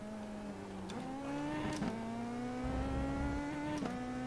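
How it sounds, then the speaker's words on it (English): A Pro 2000 open-wheel race car engine in the iRacing sim holds a steady, buzzing note that climbs gradually, broken by a few sharp pops or shift cracks, heard alone. "it sounds similar to the actual popping of the car in real life"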